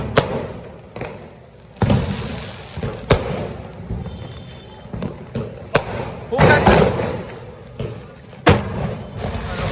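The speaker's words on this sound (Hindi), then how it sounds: "अब लास्ट बड़ा चॉकलेट बाबा जा रहे जलाने। से भी ज्यादा आवाज आता है इसका।" Large chocolate bomb firecrackers bursting during Diwali celebrations: several loud, sharp booms spaced irregularly, with a dense cluster of crackling blasts in the middle, amid background chatter and other distant bangs.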